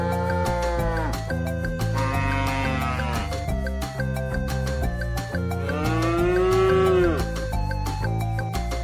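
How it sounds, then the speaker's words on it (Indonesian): A long-horned cow gives drawn-out, sliding moos that rise and fall over a steady musical backing with a regular beat. "ternyata ini sapi tanduk panjang"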